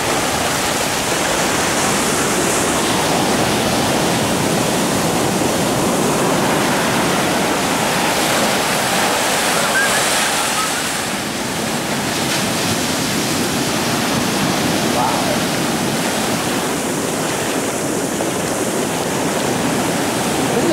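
Ocean surge washing high over a waterfront parking lot, a steady loud roar of rushing water and surf that continues unbroken with slight swells in intensity.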